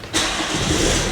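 A diesel Kia Rio, recovered after being stolen and started without keys, cranks and catches, then its engine settles into a steady, loud, close running roar.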